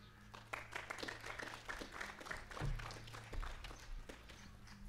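An outdoor audience at a yoga day opening applauds, quiet scattered clapping that keeps on throughout, with faint movement in the background.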